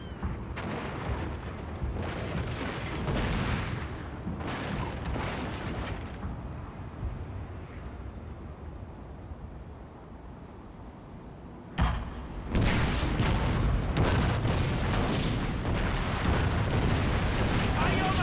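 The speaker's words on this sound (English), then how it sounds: "I like how they're all firing in order" Ship cannons in Total War: Shogun 2, Fall of the Samurai fire in a naval battle, a dense rolling series of booms in sequence that eases off midway, then a sharp renewed barrage of loud blasts.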